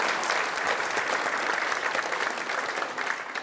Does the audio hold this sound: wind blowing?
no